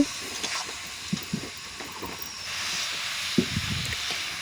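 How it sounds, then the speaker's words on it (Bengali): A steady hiss and sizzle of spices frying in a hot pan, with occasional soft clinks of a utensil against metal. "একটু লাল লাল হয়ে ভেজে যাচ্ছে"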